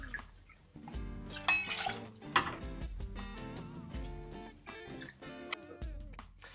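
Mescal poured into a cocktail at a bar counter, with soft liquid trickles, drips and light glassware clinks, close and intermittent under a faint musical background.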